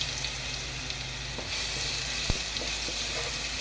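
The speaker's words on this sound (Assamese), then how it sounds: "এইখিনি মই অলপ ভালদৰে ভাজি ল'ম গোন্ধটো যোৱালৈকে।" Ginger garlic paste fries in a pan after chicken has been cooked in it, giving a steady, close crackling sizzle with a few sharp spatters and light stirring, with no voices.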